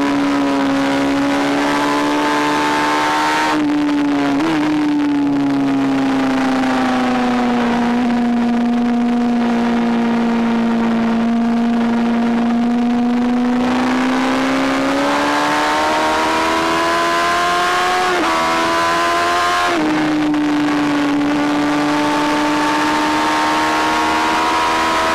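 A 2017 Honda Fireblade engine, a sport bike with IMU electronics, drones loudly and close while riding, its pitch rising and falling with throttle and gear changes, sharp shifts breaking the steady tone.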